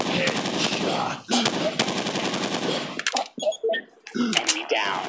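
Rapid automatic gunfire bursts from an Android FPS shooting game, Modern Flag Forces, loud and dense, broken by short pauses and a few single shots and clicks near the end.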